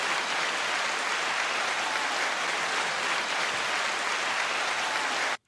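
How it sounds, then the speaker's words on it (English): Dense, even applause from a crowd runs steadily for about five seconds at constant loudness, then cuts off abruptly; no voices are heard over it. "9-second applause to Freestyle Peak 1980"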